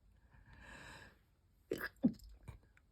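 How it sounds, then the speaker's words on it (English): A single sharp sneeze, with a short breathy intake before it and a few quieter bursts right after, close and fairly loud against a quiet room. "Oh, I'm going to sneeze."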